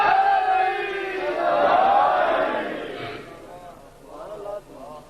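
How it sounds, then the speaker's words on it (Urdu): A crowd at a Muharram majlis religious gathering shouts slogans in unison, loud and close at first, then fading, with a few shorter call-and-response bursts near the end. "جس طرح تم نعرے لگا رہے ہو۔"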